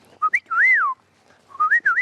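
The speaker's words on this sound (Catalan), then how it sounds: "Aquest és un ocell que arriba ara a mitjans d'abril de l'Àfrica, l'oriol, el senyor oriol" Two short bursts of a golden oriole's fluty, liquid whistled song, rising and falling melodically, clear and close against a quiet background.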